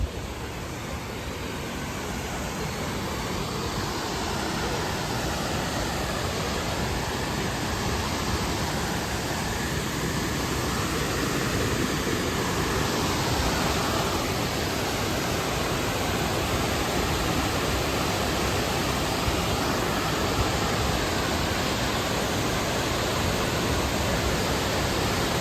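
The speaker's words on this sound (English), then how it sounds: "I'm gonna go to this waterfall and check it out." Steady, dense roar of a waterfall in New River Gorge, with a dam nearby, holding an even, loud wash for the whole stretch with no voices over it.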